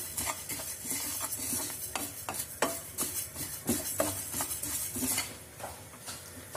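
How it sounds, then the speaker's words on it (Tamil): Spices for a green chilli pickle are lightly roasted in a pan, with quiet repeated spoon stirs and scrapes over a faint sizzle, steady and close with no talking. "இது அப்படியே லைட்டாக வறுக்கணும்."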